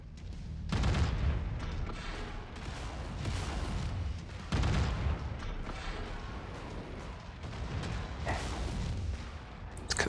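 Mech weapons fire in the video game MechWarrior 5, with a Jagermech in action: heavy booming cannon shots and continuous rumbling barrages, loud and dense, with bursts at the start and near the middle over sustained battle noise.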